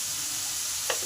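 Beetroot and carrot with salt and turmeric hiss softly in a hot pan, a steady low sizzle broken near the end by one brief scrape of a spoon stirring.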